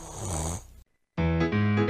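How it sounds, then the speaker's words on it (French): A man snoring in a bedroom: rhythmic snores with a brief silent gap between breaths, loud and close. "Il ronfle."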